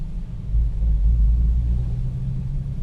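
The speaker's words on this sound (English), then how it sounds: "I need to go through a flood" A £1900 Porsche Boxster pushes through flood water, a heavy low rumble of engine and tyres swelling as the car enters the water, steady and close from inside, with no voices.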